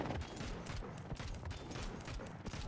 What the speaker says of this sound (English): K is the cannons